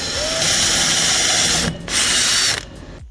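A power drill taps a thread into a metal railing support, a loud whirring and grinding that runs continuously with two short pauses near the end.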